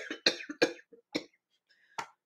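Several sharp, dry coughs in quick bursts, with a longer gap before the last ones, close and fairly loud with no other sound around them.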